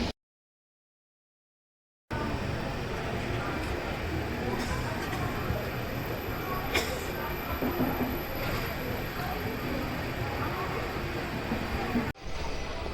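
A Jan Shatabdi superfast Pongal special express running between Tambaram and Trichy, heard from on board as a steady rumbling roar of wheels and carriage noise with faint clanks, after a short silent gap.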